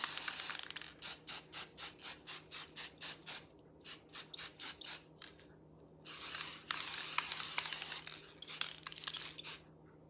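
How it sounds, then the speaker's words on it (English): Rust-Oleum matte finish sealer sprayed onto a purse in short rhythmic bursts, a quick series of hisses, a pause, then longer sustained sprays close by with no talking. "So this is already put on, and all I'm gonna do is I'm just gonna spray it."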